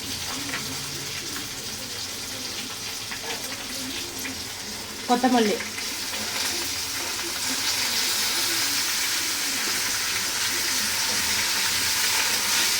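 Tomatoes for tomato chutney sautéing in a pan, a broad steady hiss of frying with a brief clatter midway, close and continuous.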